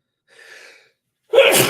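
A single close, loud sneeze, preceded by a soft, brief intake of breath and a short pause, with no talking.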